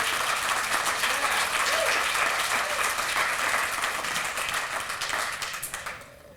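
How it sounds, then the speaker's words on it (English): Sustained audience applause at an indoor Bioneers conference talk fills the room as a dense, even wash of many hands clapping, fading out toward the end with no speech over it. "Let's give Kara a hand of applause."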